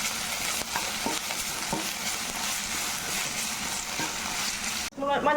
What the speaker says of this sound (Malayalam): കുറച്ച് വേപ്പില, ഇഞ്ചി ബ്രൗൺ കളർ ആവണവിടെ ഒന്ന് നന്നായിട്ട് ഇളക്കി കൊണ്ടുപോകും